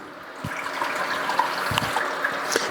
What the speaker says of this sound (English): let that kind of drain down